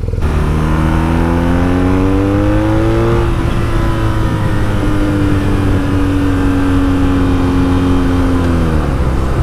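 BMW touring motorcycles pulling away onto a road, loud close engines revving through rising gear changes, several bikes droning together with no talk.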